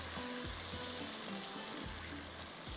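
Whole spices fry in hot oil for an aloo naan tarka, making a steady sizzle with occasional soft stirring clinks and no talk heard.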